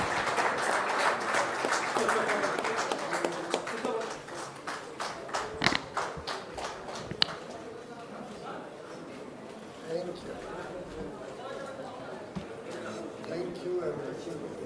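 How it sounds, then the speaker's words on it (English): A summit audience applauds two leaders at the 30th CII Partnership Summit, with a dense burst of clapping in the first few seconds that thins to scattered claps and murmuring as a speaker talks. "please join me in thanking our two leaders with your warm applause"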